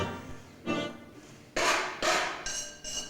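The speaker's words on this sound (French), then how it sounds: "on voit des perceuses électriques, on voit des marteaux, on voit des clous" A hammer is struck as a percussion instrument on stage in a concert using tools like drills and nails, giving several sharp, resonant hits with short decays at irregular intervals.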